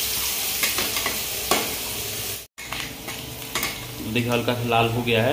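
Chopped onions with chilies fry in a pan for Indian-style masala pasta, a dense close sizzle broken by scraping stirs and utensil clinks, with a brief dropout midway and someone speaking over the cooking near the end.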